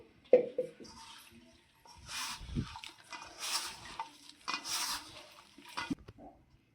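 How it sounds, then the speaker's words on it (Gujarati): Spinach paratha dough being kneaded by hand, giving soft, close squelching and slapping sounds in uneven bursts, with occasional light knocks and no talk. "અને લોટ બાંધતા જશું"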